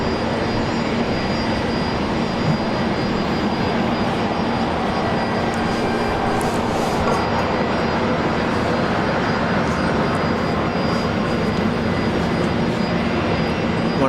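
A Boeing 737-700 jet airliner at Brisbane Airport, its engines producing a steady, broad roar that holds evenly for the whole stretch without clear rise or fade.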